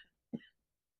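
A single short cough bursts out close by, brief and fairly soft, followed by quiet.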